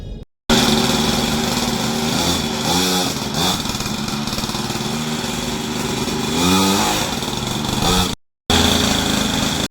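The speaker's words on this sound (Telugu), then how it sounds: "కాకపోతే అది ఏంటంటే ఆఫ్ రోడ్ బైక్." An off-road dirt bike engine runs loud and close, a continuous buzzing drone with a few revving swells, cutting out briefly near the start and end.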